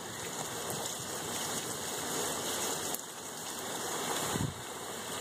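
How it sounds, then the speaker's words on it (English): Heavy rain falls during flash flooding, a dense, continuous hiss of drops on surfaces with a steady wash of running water beneath, even and unbroken throughout, no voices. "It is still raining,"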